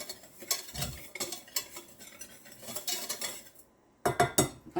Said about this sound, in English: by going ahead and whisking this in, I can try to eliminate as many of those lumps as possible